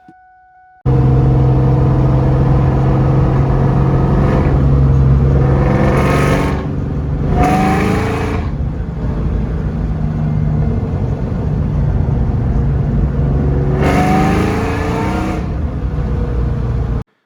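A supercharged 2001 Ford Mustang Bullitt with a 2V engine driving at night, a loud steady engine drone and road rumble, with a few brief rises in revs as it accelerates and shifts, heard from inside the car.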